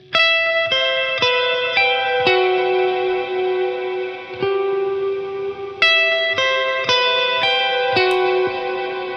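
Plucked electric guitar notes ring out in clean, repeated phrases, each attack blooming into a long, shimmering reverb tail.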